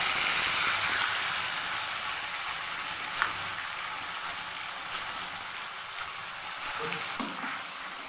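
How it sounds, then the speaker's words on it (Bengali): Onion and chili paste frying in hot oil for boal fish curry, a loud steady sizzle with occasional stirring scrapes and small sharp ticks of the spoon against the pan. "প্রথমে আমি পেঁয়াজ আর লঙ্কা বাটাটা দিচ্ছি।"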